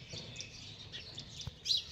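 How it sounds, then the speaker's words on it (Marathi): Sparrows in a tree give soft, scattered chirps in the morning, faint and distant against a quiet background. A slightly louder tweet comes near the end. "चिमण्यांचं चालले चिव चिव चिव चिव झाडावर."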